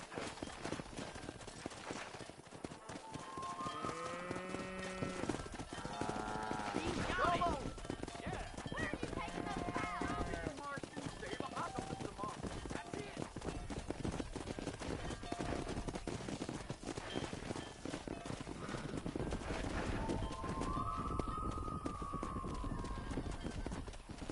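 Horse hooves clip-clop steadily through a Red Dead Redemption game scene, with neighs and whinnies breaking in; characters talk over the hoofbeats, with a faint gunshot or two in the background.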